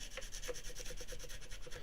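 Sandpaper rubs back and forth over a Flying V electric guitar body, a soft rhythmic scratching with quick regular strokes, faint and close, with no voices.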